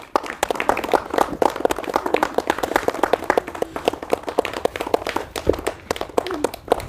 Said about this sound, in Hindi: ताली मारो बच्चे।